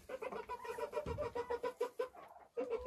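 A hen clucks softly in a coop, a quick run of short, evenly spaced clucks that pauses briefly before resuming, faint and close.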